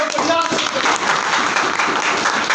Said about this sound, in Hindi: तो ताली जोरदार बजा लीजिए आप सारे।